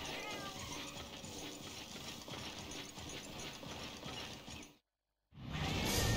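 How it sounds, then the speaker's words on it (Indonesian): In the Monster Hunter Freedom Unite video game, a cat companion meows amid a dense, continuous bed of game effects and mechanical clatter before the sound drops out for a moment and returns. "Nice, kucing."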